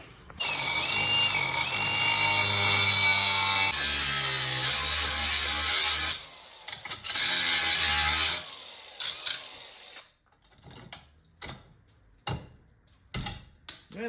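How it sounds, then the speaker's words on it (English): A power tool cuts the corners off a steel bed frame for a 1978 Ford F100 truck, a loud sustained whining cut for about eight seconds, then short bursts of cutting and clanking metal. "Now it's time to start slicing these corners off"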